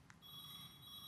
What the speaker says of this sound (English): In fact, that's my phone going right now.